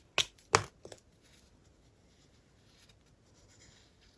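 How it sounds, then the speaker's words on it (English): A pen drawing on a sheet of craft foam gives two sharp scratchy strokes near the start, a few lighter scrapes after, then fades to faint rustling. "I'm going to draw from this side,"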